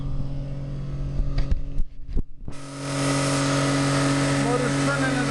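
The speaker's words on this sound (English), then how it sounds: "Motor's turning at a fairly high speed" A DC motor generator fed about 44 volts and 23.6 amps spins up to a fairly high speed, a few knocks and a brief pause giving way to a steady, loud, whirring hum with a constant tone.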